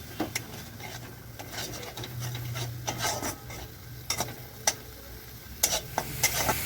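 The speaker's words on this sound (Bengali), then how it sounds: "সামান্য একটু জল দেব, দিয়ে মশলাটা ভালোভাবে নাড়িয়ে চাড়িয়ে কষিয়ে নেব" Spice paste with cumin powder and a splash of water being stirred and fried in a pan for Bengali Katla fish kalia, a soft steady sizzle with a spoon scraping and tapping against the pan at irregular intervals.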